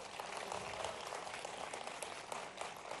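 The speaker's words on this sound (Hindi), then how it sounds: "तो ताली ऐसी नहीं बजी जैसी बजना चाहिए" Audience applause at a state-level teachers' honour ceremony at an administration academy in Bhopal, a steady, even clapping that holds for about three seconds at moderate loudness and sounds fairly thin rather than thunderous.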